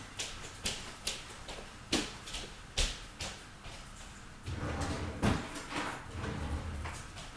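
A desk drawer slid open and shut while someone fetches Bic markers, giving a series of short knocks and clacks in a loose rhythm, followed by a longer rustling scrape, all close by with no talking.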